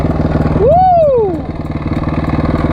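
A Honda CRF450 dirt bike converted into a snowbike idles in neutral with a steady, close, pulsing engine beat, briefly overlaid by a rising and falling whistle-like tone before the idle settles again.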